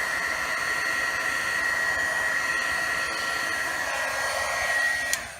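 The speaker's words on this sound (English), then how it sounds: "I am going to be turning my heat gun on" A heat gun blows steadily to heat-set ink for a craft project, a close, even whooshing roar with a faint whine that runs unbroken and then clicks off near the end.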